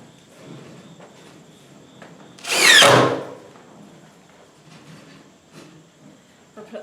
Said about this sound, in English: We're putting 2 screws on each side.